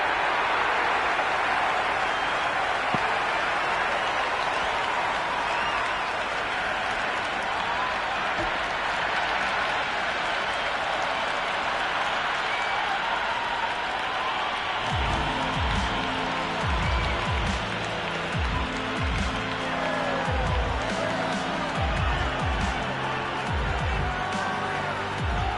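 Cricket crowd in Cricket 26 at a Melbourne Cricket Ground T20I between Australia and Ireland, with a steady wash of applause and cheering throughout. A rhythmic clapping or chanting pattern joins in partway through.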